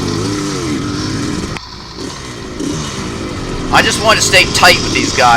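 A vintage motorcycle in a cross-country race, its engine droning and then climbing in pitch through a gear change, heard throughout beneath a rider speaking close to the microphone.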